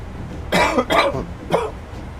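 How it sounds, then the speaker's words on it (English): A man has a close, loud coughing fit, two harsh coughs in quick succession followed by a third after a short pause. "I'm just going to have a coughing fit for a bit."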